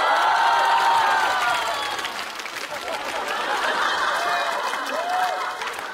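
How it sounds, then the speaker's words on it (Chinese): Audience applause and cheering at a stand-up comedy show, a dense broadband wash that stays loud across the whole stretch, with crowd chatter and a little laughter mixed in. "你看就是有掌声"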